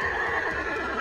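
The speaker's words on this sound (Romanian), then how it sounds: "Kelpi a nechezat dracește, tropăind din copite ca semn că a terminat" A horse neighs wildly in one sustained, loud whinny with a faint stamp of hooves beneath, a short dramatized effect for a Romanian water-horse horror legend, with no voices present.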